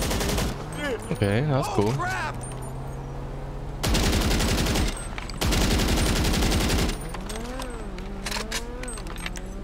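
Gunshots from Grand Theft Auto Online come in loud sustained bursts between stretches of engine and game noise, with someone talking casually over parts of it.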